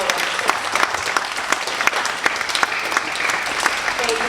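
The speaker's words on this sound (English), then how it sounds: "Please give them a clap, our teachers and our learning support officers." An audience at a school stage award assembly claps steadily for teachers and learning support officers, a dense, even roar of many hands sustained throughout.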